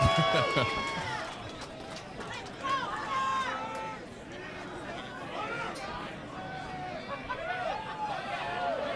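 Crowd noise at the Pinnacle Combat 6 MMA event at Mystique Casino, a steady murmur of chatter and shouts filling the arena, with an announcer talking over it.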